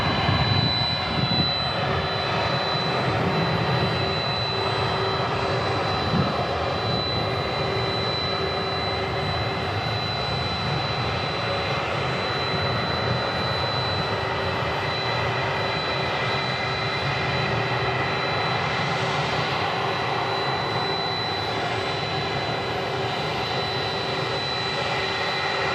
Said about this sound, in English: let's show you the big UPS 767 right in front of us